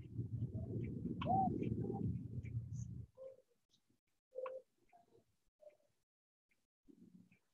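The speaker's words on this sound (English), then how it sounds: "It's definitely springtime for the pigeons. They're flying around and they're jumping on each other's backs." Pigeons coo in spring: a low rumbling coo close up for about three seconds, then softer scattered calls and bursts separated by quiet gaps.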